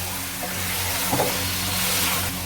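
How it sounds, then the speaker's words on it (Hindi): Chicken pieces fry in a pot for curry, giving a steady, dense sizzle with faint stirring scrapes throughout, close and unbroken, with no talk. "तो चिकन नूं इहदे विच भुन लांगे ताकि सफ़ेद जब तक ना हो जाए चिकन का कलर चेंज हो जाए"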